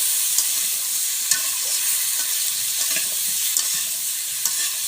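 Vegetables sizzle in a pan with salt and turmeric over a clay stove while being stirred, giving a steady loud frying hiss broken by periodic scraping strokes, with no voices.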